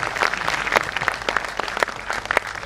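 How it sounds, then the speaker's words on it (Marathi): At a teachers' award ceremony, an audience claps for honoured teachers, a lively, uneven patter of many hands with individual sharp claps standing out, moderately loud and sustained. "एकदा जोरदार टाळ्या त्या शिक्षकांसाठी."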